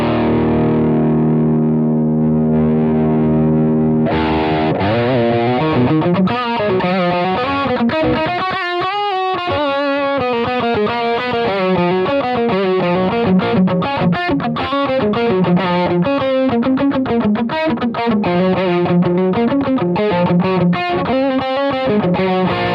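Electric guitar played through the Supreme high-gain amp model of a Boss GT-1000 Core with the overdrive block off, a sustained distorted chord ringing before fast, chunky palm-muted riffing and sharp chugs, loud and up front with no talking.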